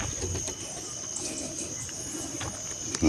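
Alimokon dove cooing in a forest, soft calls recurring across a steady insect-like hiss with a few brief rustles, fairly distant and faint.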